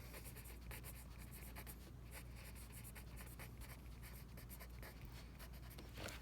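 A short note is handwritten during a math lesson, heard as close, steady scratching and tapping of a pen or pencil on paper, faint and continuous, with no talking.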